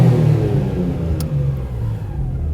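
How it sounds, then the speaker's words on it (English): A car engine held at full throttle roars loudly and steadily against the RPM limiter, a dense, sustained drone that stays close and continuous with no speech. "I'm just going to go to full throttle and we'll see the effect"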